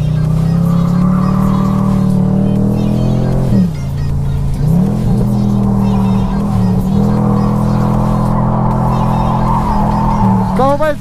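A Chevrolet Camaro convertible, all original, races flat out around a track, its engine roaring loud and close with a steady high drone, dipping briefly through gear changes before pulling hard again, with a sharper rising whine at the end.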